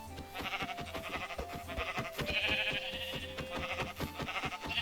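Repeated sheep bleats in a video game over a busy background of music-like tones and rhythmic clicks, moderately loud and continuous.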